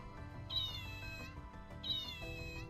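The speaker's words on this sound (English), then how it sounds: "It's like a fake sleeping kitty, and if you press a button, it makes noises." Toy sleeping kitten giving two electronic meows at a button press, each a drawn-out, fairly clear mew about a second long, separated by a short pause over a low background hum.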